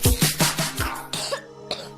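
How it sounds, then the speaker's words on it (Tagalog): A child coughs in a quick burst of about six sharp, close coughs, the last few more spaced out. "Ubo ng anak, nakababahala, baka plema."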